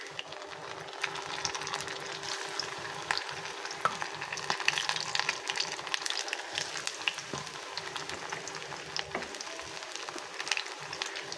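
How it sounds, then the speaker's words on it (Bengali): A steady sizzle of rice flour and wheat flour batter frying in hot oil, a close crackling hiss with small pops that runs unbroken throughout. "এখন শুধু ভেজে নেব।"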